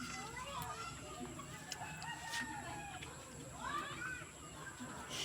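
Free-range chickens cluck and a rooster crows a few times at moderate distance on a provincial Philippine farm, mixed with faint voices and background chatter.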